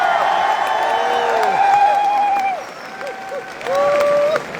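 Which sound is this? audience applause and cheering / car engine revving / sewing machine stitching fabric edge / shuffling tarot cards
audience applause and cheering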